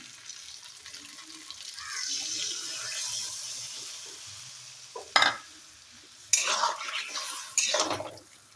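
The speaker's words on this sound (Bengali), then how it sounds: "সর্ষের জলটা আমি ছেঁকে নিয়েছি, এরপর এটা দিয়ে দেব এটার মধ্যে" Strained mustard water poured into a dish while making hilsa fish, with a soft running-liquid wash, then clattering splashes and scraping bursts near the end.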